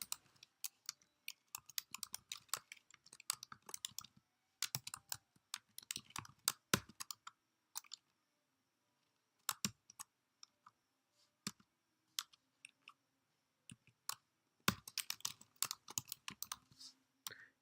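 Code is typed on a computer keyboard in quiet, close bursts of rapid key clicks, broken by short silent pauses and then resuming, with no speech.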